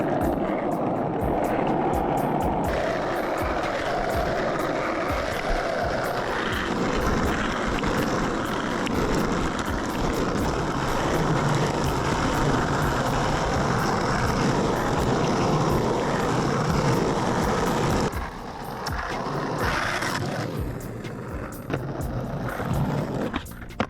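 A complete skateboard fitted with hard street wheels rolls over pavement, a loud continuous gritty roar that holds steady for most of the ride, then drops away and resumes more unevenly near the end.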